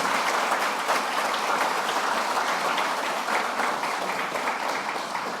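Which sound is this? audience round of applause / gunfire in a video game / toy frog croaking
audience round of applause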